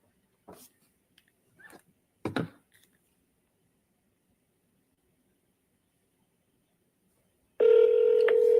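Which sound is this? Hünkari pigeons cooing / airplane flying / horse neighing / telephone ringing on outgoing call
telephone ringing on outgoing call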